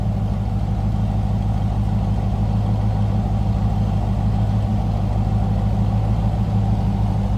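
A 5.7-liter V8 in a 1994 Chevrolet Corvette coupe idles with a deep, steady rumble, low and throbbing, close by and unbroken for several seconds.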